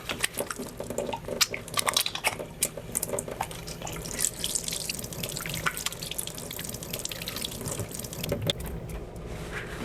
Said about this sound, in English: Just gonna give my hands a wash here.